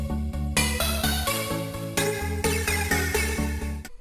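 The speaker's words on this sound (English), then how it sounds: "I just used this wavetable and messed with the volume so it sounds like a pluck" Bright wavetable synth pluck notes with flanger and reverb repeat in a quick, steady rhythm over a pulsing bass, with a swirling, washed-out shimmer and spacious tail.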